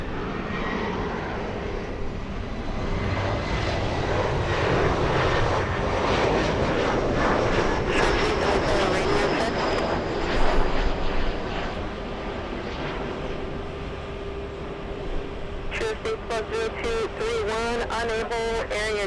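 Jet aircraft noise at LAX, where an Airbus A380 and a Boeing 747-8 are landing minutes apart: a steady loud roar of engines with rising whine, and bursts of clicking radio chatter near the end.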